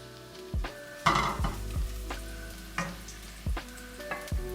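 Garlic stir-fries in hot oil in a wok, a constant close sizzle broken by several sharp metallic scrapes and knocks of the spatula at uneven intervals.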